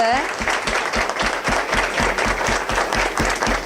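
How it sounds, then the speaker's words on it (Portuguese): An audience at a corporate talk breaks into steady applause, many hands clapping together at close range, with a voice briefly audible at the start. "Uma salva de palmas"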